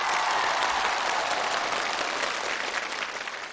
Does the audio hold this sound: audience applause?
yes